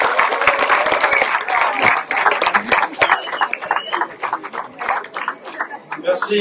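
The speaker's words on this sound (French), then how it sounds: "On applaudit bien fort, s'il vous plaît." A school audience at a collège slam poetry tournament applauds the director, a dense burst of clapping that thins and trails off over several seconds, with voices mixed in.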